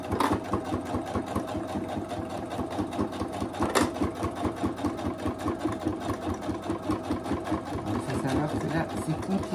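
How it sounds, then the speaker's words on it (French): A sewing machine topstitches faux leather in a steady, rapid mechanical chatter of needle strokes, close and continuous, with a brief sharp click partway through and a person speaking over the whirring. "Et là, on est parti pour faire la surpiqûre."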